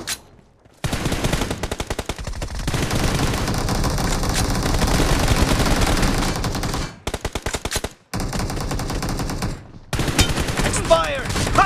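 Rapid bursts of automatic gunfire crackle almost continuously in a 12 versus 12 PUBG Mobile team deathmatch, loud and close, with brief pauses between volleys and overlapping distant shots.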